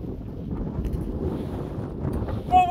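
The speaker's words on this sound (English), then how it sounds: "But oh, we're big time into the wind, Marooch." Wind buffeting the microphone on an exposed golf course at Mulranny in Ireland, a continuous low rumbling gust that swells slightly toward the end, loud and unbroken.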